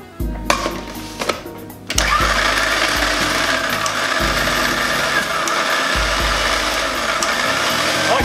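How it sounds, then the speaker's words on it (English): A kitchen blender chops and purées a small onion: a few short pulses, then a loud, steady whirring grind that holds for several seconds. "add the small onion, and we're gonna blend this up"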